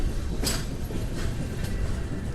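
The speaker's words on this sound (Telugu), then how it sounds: "మనకు వచ్చేసి కాజీపేట జంక్షన్ నుంచి బయటకైతే ఒక ట్రైన్ అయితే వస్తుంది." A train running near Kazipet junction rumbles steadily with low continuous rail noise and a few brief bright wheel clatters, fairly close and without any talking.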